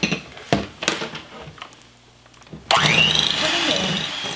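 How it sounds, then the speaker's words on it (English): An electric blender starts up abruptly after some clattering and runs loud and steady, its motor whirring with a rising pitch. "blend those two together with my blender"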